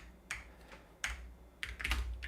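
Keys on a loud computer keyboard clack in short bursts, a few sharp clicks clustered together with gaps between them, close and fairly prominent over a low background hum.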